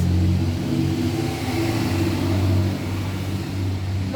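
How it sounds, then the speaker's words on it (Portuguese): A truck passing by produces a loud, steady low engine rumble with a droning hum that holds for several seconds without fading. "O colega do caminhão passando."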